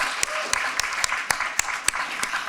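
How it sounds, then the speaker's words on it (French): An audience applauds a seated cohort of student app developers at a gathering, a dense, steady patter of many hands with a few sharper individual claps standing out, fairly close and with no talk over it. "qu'on peut applaudir quand même"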